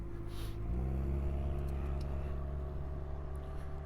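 Road traffic passes nearby, a steady engine rumble swelling and easing as a car goes by, with a continuous low hum throughout.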